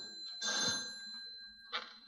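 A telephone rings in two bursts about a second apart, clear and close in an otherwise quiet room.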